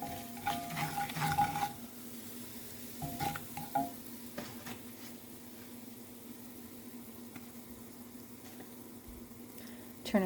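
A spoon stirs flour into pot roast gravy in a pot, with scraping clinks and bursts of stirring over the first few seconds, then a quieter bubbling simmer with occasional light taps.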